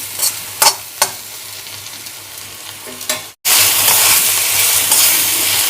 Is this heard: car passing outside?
no